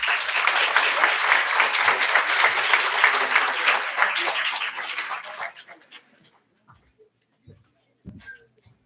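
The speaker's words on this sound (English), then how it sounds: "Let's give him another round of applause" An audience at a university white coat ceremony applauds a speaker, a full steady round of clapping that fades out after about five seconds, followed by a few scattered claps and small room noises.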